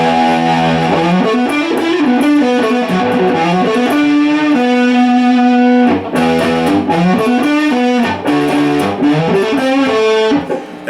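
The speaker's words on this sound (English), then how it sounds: "you can get some decent overdriven sounds here" A Warmoth Jazzmaster electric guitar plays overdriven chords through distortion, loud and close, with sustained notes shifting through a riff and brief breaks between phrases, no voice.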